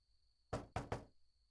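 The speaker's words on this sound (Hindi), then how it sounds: "हयात सुनो, दरवाजा खोलो" Three quick knocks on a door, sharp and close, the second and third tightly spaced, against an otherwise quiet room.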